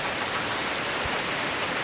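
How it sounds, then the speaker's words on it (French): Rain falling steadily on a garden, a dense, even hiss of drops with no breaks and no voices. "Tandis que la pluie continue à tomber"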